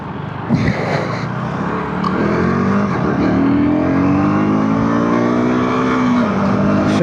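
A 2026 KTM Duke 250 motorcycle rides with a quickshifter that sticks on the 2-to-3 shift, its engine note climbing steadily through the gears with brief dips at each shift, loud and close.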